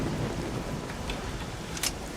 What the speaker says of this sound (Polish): Piękny deszczyk spadł.